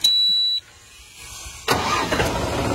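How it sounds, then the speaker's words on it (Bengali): A newly delivered car's engine cranks and catches after a short electronic beep, then settles into a steady nearby idle, heard alone. "তো ইঞ্জিনের সাউন্ডটা দেখছেন পুরো একদম"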